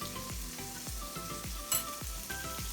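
Butter browning in a pan for a lemon brown butter carrot and parsnip side dish, crackling and sizzling steadily with popping bursts recurring about every half second, close and fairly loud with no talking.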